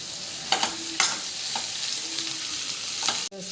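Ivy gourd (dondakai) and onions stirred in a hot pan, a steady soft sizzle broken by a few sharp spatula scrapes and clinks, with a louder knock near the end.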